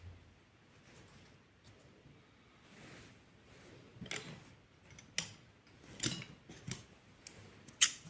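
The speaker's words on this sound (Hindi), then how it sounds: "फिर इस धागे को जैसे काटते हैं वैसे काट लेंगे।" Scissors snipping woolen thread while knitting gloves: soft, close clicks and cuts, sparse at first, then several sharper snips in the second half.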